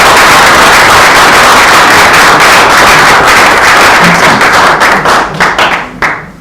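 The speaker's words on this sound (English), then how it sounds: "we need to give another applause to the whole team of Phoenix" Loud, dense applause from an audience at a newspaper press conference for the Phoenix team, sustained clapping that thins into a few scattered last claps near the end.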